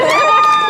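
Crowd at an indie wrestling show cheering and shouting loudly and steadily, a dense wash of voices held at close range for under a second.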